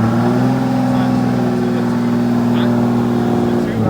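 A 2015 BMW 435i engine revs loud and close with a steady, droning tone during a burnout attempt, holding high throughout with a faint voice beneath.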